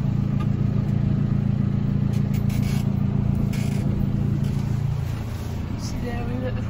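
Steady, loud vehicle engine drone and tyre noise as the wheels spin over a small bump, the pitch easing near the end, with a voice talking over it.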